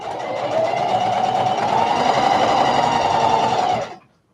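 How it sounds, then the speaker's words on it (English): A sewing machine stitches fabric for a rag doll in one steady, fast, loud mechanical whir lasting a few seconds, then stops abruptly. "All right, we are stitching."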